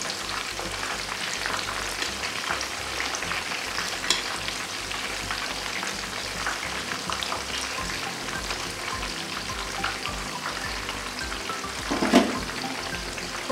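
Tempeh frying in dark, previously used cooking oil, a loud, steady close-up sizzle and crackle with occasional sharper pops and a brief clatter as pieces are turned.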